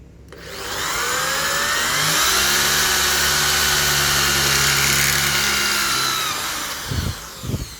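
A loud Doliz BA670 impact drill with a large bit whines steadily under heavy load for several seconds, its pitch holding and wavering slightly before winding down to a few clunks.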